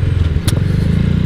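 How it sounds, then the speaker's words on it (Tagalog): A Rusi Classic 250 motorcycle's engine thrums close by in heavy street traffic, a loud pulsing low rumble with a brief sharp clatter midway. "sobrang traffic ngayon"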